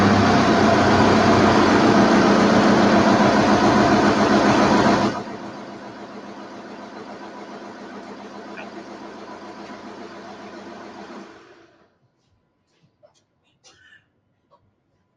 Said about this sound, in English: I'll run around and start the engine.